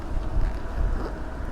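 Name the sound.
wind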